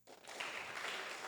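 A church congregation breaks into applause, a dense wash of many hands clapping that starts abruptly and holds steady, heard from a moderate distance.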